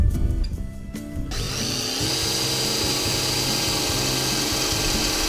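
A power drill whirs continuously at close range after a brief start, its motor holding a steady, gritty whine throughout, while drilling holes to install a light bar on a Ford F-250 Super Duty.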